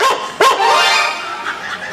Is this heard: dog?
yes